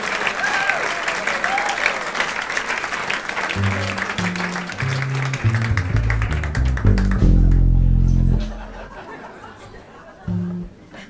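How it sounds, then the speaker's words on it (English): An audience at a traditional jazz concert applauds for a singer. The clapping is loud and dense while a bass and piano play short phrases underneath. It fades after about eight seconds and a few scattered claps follow. "Merci d'applaudir."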